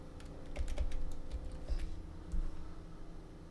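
Quiet, uneven keyboard clicks as someone types on a computer keyboard, with short bursts of keystrokes separated by brief pauses.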